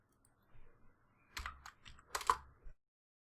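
Soft keystrokes on a computer keyboard while Python code is entered: a few sparse, quiet clusters of taps and clicks with pauses between them, close and otherwise silent.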